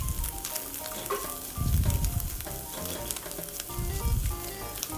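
Onions and carrots stir frying with scrambled eggs in a pan for noodles, a close, steady sizzle with louder bursts as the food is stirred and tossed, with no talking.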